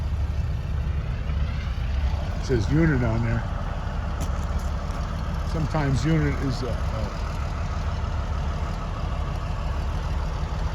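An old Caterpillar engine idles steadily at the Rock River show in Edgerton, Wisconsin, with a constant mid-low rumble running throughout, while people talk close by over it.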